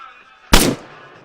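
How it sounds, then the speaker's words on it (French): A single sharp gunshot cracks out in the Arma 3 Altis Life video game, loud and close, with a brief decaying tail after the blast. "Je tire."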